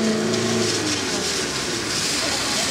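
A car roars past outdoors in a village with loud, rough exhaust noise, a continuous close engine rush that swells and fades slightly, with a voice briefly audible at the start.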